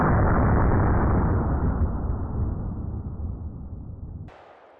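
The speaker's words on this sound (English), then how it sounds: "I'm going to shoot the hollow point low center" A big bore lever-action rifle fires a hollow point round, one loud close blast with a long rolling echo that fades over several seconds before cutting off.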